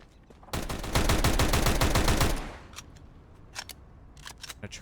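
A rapid burst of pistol fire in Counter-Strike on the Cobblestone map, a dense run of sharp shots for about two seconds, followed by scattered, fainter distant shots.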